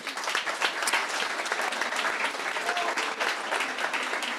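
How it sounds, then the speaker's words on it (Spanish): Steady, dense audience applause at a public debate on urban public space in the Canary Islands, a sustained wash of many hands clapping at even loudness throughout, with no voices over it. "Un aplauso para Adriana otra vez."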